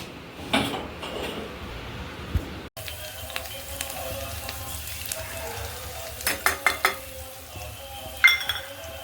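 Pumpkin curry (kaddu sabzi) sizzles and is stirred in a home kitchen pan, a steady frying hiss with scattered utensil scrapes and a burst of quick clinks near the end, moderately close.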